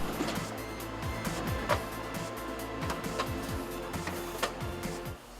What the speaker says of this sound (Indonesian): Adonan lalu akan melewati mesin memutar ini sampai berbentuk bulat